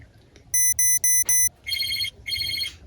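Phone ringback tone after dialing a call: four evenly spaced electronic rings, each a short steady burst, followed by two longer warbling ring pulses, close and clear over a faint low background hum, with no talking.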